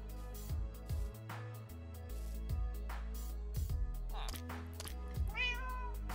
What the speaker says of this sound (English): Found a cat already.